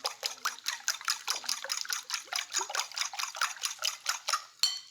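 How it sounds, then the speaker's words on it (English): Eggs are whisked in a bowl for a ricotta frittata, a fast rhythmic series of wet clicking strokes of even pace, close and fairly loud, ending with a final scrape. "Let's whisk it."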